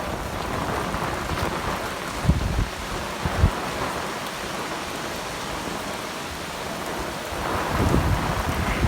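Steady rain falls on garden plants in the monsoon season, including foxtail ferns and spider plants, making a dense, continuous patter with a few louder drops and low rumbles. No voices.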